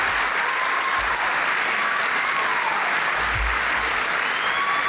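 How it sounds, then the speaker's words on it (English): Sustained, loud audience applause for the Astronaut Scholar Class of 2023 at a gala opening ceremony, a thick wash of many hands clapping, with a faint tone drifting through. "Give them a big round of applause."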